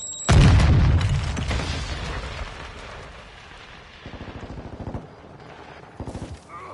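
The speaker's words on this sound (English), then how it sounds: "Hostile mortar strike in the area." Mortar strike explosions in Call of Duty: a loud heavy boom with a deep rumbling tail, followed by fainter rapid bursts of gunfire and a few later impacts, all amid busy game battle noise.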